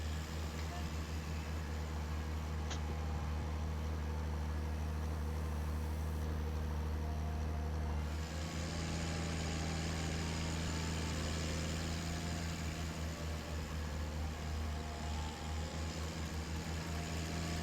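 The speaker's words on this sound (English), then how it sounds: "when I try to put my tractor to sleep, it just goes..." Tractor engine idling in the Farming Simulator 19 video game, a low, steady rumble with a constant hum that shifts in tone about halfway through, playing quietly throughout.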